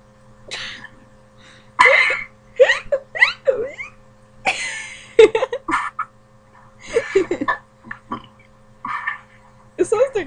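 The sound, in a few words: hiccups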